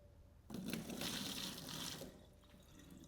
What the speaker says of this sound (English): That's gonna pour some of the water out of that too.